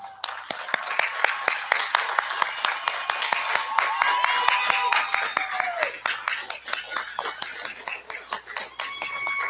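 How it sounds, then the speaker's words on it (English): Graduation ceremony audience for a middle school eighth grade class gives a round of applause, sharp individual claps ringing out in a hall while cheers and whistles rise and fade around them. "Please join me in giving the graduating class one more round of applause."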